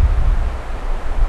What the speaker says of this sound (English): Nice wind gust coming in.